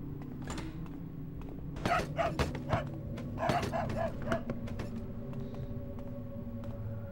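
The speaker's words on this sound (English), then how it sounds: "that dog just keeps barking at me" A dog in the video game Manhunt 2 barks in a quick run of sharp, repeated barks, moderately near, over a steady low game hum.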